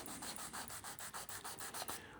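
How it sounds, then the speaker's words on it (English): Quick, rhythmic scrubbing strokes of a sanding sponge rubbing flashing off a plastic tonearm part, about a dozen short passes, close and quiet. "take that off with a sanding sponge"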